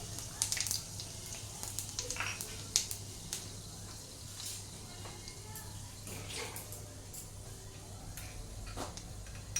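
Five-spice seeds crackle and sizzle faintly in hot oil, scattered small pops and ticks over a low steady background hum.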